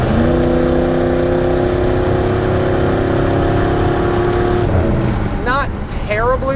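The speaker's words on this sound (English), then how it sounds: "has a great exhaust note." A 1987 GMC C10 pickup with a 350 V8 and aftermarket mufflers and tailpipes idles with a steady, moderately loud exhaust rumble throughout, fading somewhat near the end as a few brief high squeaks cut in.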